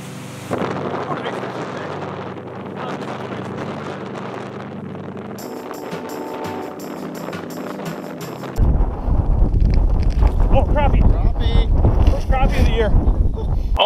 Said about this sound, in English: Oh boy, it's windy out here.